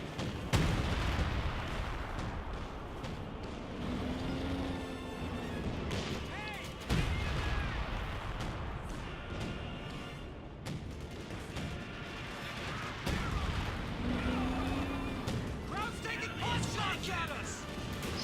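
Priest self-propelled artillery shelling in a Company of Heroes 2 2v2 battle: repeated booming impacts and crashes of gunfire rolling through a dense, busy battlefield mix, with a commentator's voice running over much of it.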